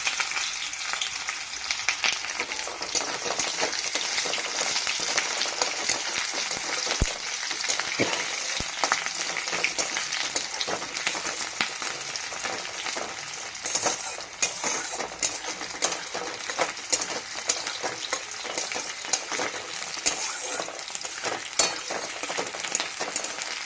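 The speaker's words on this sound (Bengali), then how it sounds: "এবার পেঁয়াজটা দিয়ে দিলাম" Sliced onions frying in oil in a pan, giving a continuous close sizzle with occasional light scrapes and clinks of stirring, steady for the whole stretch and free of talk.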